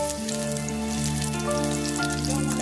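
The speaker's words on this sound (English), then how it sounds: "So here I'm heating up the oil now, and now we will add the garlic." Chopped garlic goes into hot oil while coconut pumpkin with shrimp is being cooked, producing a loud continuous sizzle and crackle under a steady tonal background hum, with no one speaking.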